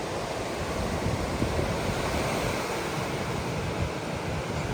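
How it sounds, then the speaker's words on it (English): Ocean surf rolling and breaking along a fishing beach, a steady, loud wash of broken waves and white water with wind rumble, continuous for the whole stretch with no voices. "Hopefully that surf is not too loud"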